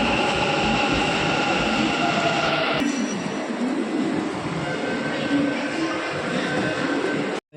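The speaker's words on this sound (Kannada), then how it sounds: "ಇದೇ ಯಶವಂತಪುರ ಮೆಟ್ರೋ ಸ್ಟೇಷನ್" A Bangalore metro train at Yeshwantpur station gives a loud, steady rumbling roar with a high whine, which shifts partway through and runs to an abrupt cutoff, with no talk over it.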